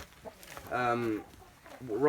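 Chickens cluck and call in a deep-bedding winter pen of wood chips, a few short close cackles rising into a louder drawn-out squawk, with soft rustling between calls.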